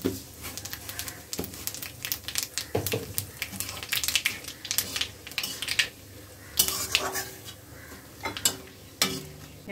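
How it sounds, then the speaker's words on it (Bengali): Dried red chillies and nigella seeds tempered in mustard oil in a pan, a soft crackle and sizzle under scattered clinks and scrapes of a spoon against the metal pan, close and modest in level, without speech. "শুকনো লঙ্কা ফোড়নে দিচ্ছি।"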